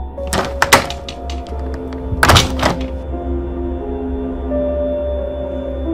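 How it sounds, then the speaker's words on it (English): A window thumps shut in a cartoon, with a few sharp knocks and clatters early on, then a heavier double bang around the middle, followed by a quiet hum. "Marshall went over to close the window."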